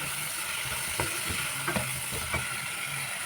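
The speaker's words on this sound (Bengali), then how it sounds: "এটাকে আমি সুন্দর করে ভেজে নেব" Food frying in a pan on a home stove gives a steady, even sizzle, with a few soft clinks and scrapes from stirring on top, heard close and alone.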